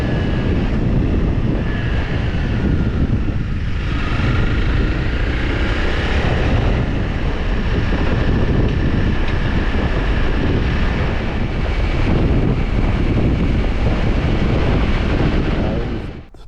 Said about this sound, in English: a bit windy again today.